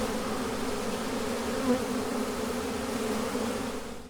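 Honeybees from an August swarm buzz steadily around their captured queen, a dense continuous hum holding at an even level throughout with no voices.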